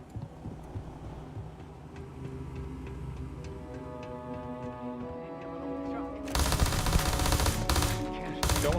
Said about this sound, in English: I'm gonna switch to full auto again,